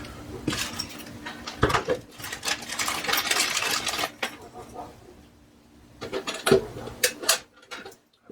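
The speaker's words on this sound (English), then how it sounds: "Sounds like the button's engaged right." Several sharp mechanical clicks and clacks of a KVM switch button and added lock, close up, scattered over a stretch of fiddly handling noise, with a cluster of louder snaps near the end.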